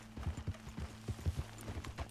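Horse hooves clop in a steady walking rhythm in a video game, a dozen or so close, clear hoofbeats over a faint low hum.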